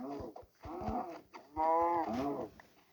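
Sheep bleating inside a Minecraft-style survival video game, a few wavering bleats in a row, fairly loud and close, with no talk over them.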